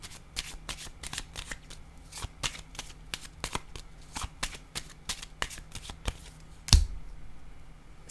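Playing cards handled and shuffled for a draw, a steady series of crisp riffling flicks and snaps close by, ending in one louder slap near the end.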